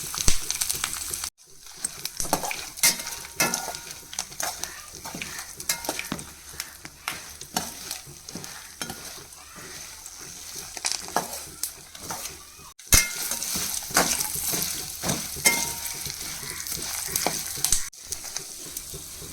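Peanuts, coriander seeds, dried red chillies, curry leaves and cumin fry on a medium flame. Busy, continuous stirring rattles and scrapes run throughout over a crackling sizzle, with brief pauses.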